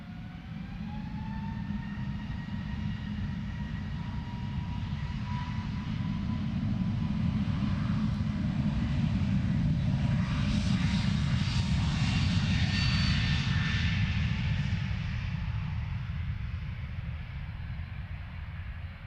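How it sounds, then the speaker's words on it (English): Airliner taking off from runway 25 at Luton Airport, a steady, heavy engine roar that swells and holds loud through the middle before easing slightly, with a high whine riding above it and no voices. "cleared for takeoff"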